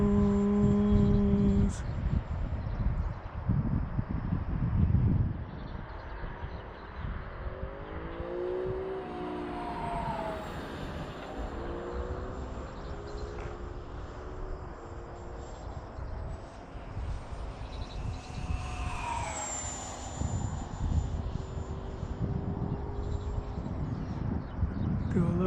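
A Zeta Ultra-Z Astro 64mm electric ducted fan RC plane making a high-speed pass, heard as a whining fan tone that rises and falls as it sweeps by amid outdoor wind noise, with people talking at times.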